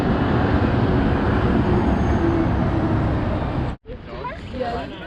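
A steady low rumble of a city tram rolling past in Amsterdam, continuous and fairly loud, then cutting out abruptly near the end.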